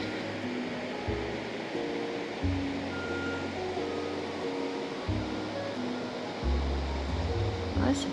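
Steady broadband rush of flowing river water, moderately loud and continuous, with low tonal hum and music-like notes faintly layered underneath.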